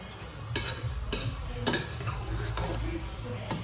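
Ugba, the Igbo sliced oil-bean dish, being mixed slowly in a bowl, with a few distinct spoon-on-bowl clicks spaced about half a second apart over soft stirring.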